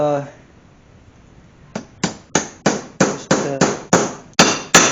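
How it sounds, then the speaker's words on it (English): Seal drivers made from flanged nuts are hammered into a Borg Warner Super T-10 transmission: after a quiet start, about nine sharp metallic blows ring out close by at a steady, even pace. "These are high dollar seal drivers"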